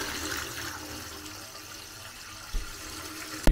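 At a campsite sink, water drains and gurgles in a steady, moderate rush that fades a little, ending with a couple of sharp knocks close by and no talking.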